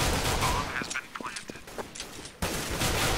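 Counter-Strike gunfire on the de_cache map during a competitive playoff match, with bursts of sharp rapid shots and scattered single cracks under loud background noise, pausing briefly before a heavier burst near the end.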